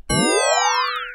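A single synthetic tone made of 20 waves whose pitches glide together and converge on one bright, steady high note at 1400 Hz, lasting about a second.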